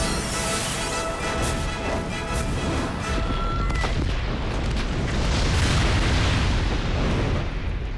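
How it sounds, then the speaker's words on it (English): A gas-filled insect nest blows apart in a film effect, a loud, sustained roaring blast with crackling bursts and a dense rumbling tail that stays strong for several seconds. "the nest is a, you know, enclosed space, lots of tubes filled with gas, it begins to blow and then it explodes much like a gas bomb"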